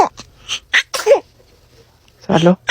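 A newborn baby sneezes several times in quick bursts, small and sharp, with quiet pauses between and adult speech overlapping near the end.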